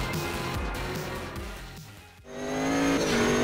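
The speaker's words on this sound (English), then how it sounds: "kicking off my first ever lap on time trial mode with the Sigma P1 at the Kyalami Grand Prix circuit" A Sigma P1 race car in a sim racing game lapping the Kyalami Grand Prix circuit, its engine droning and rising in pitch through the gears, steady and close with a brief dip before it revs up again.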